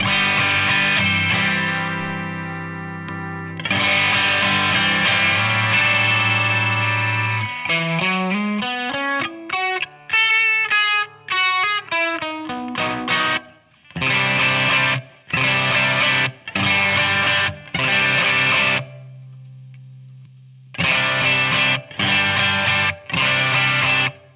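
Electric guitar through a Bluesbreaker-style overdrive pedal, loud and mildly driven: sustained chords, then a run of rising and falling single notes, then repeated chord stabs separated by short silences.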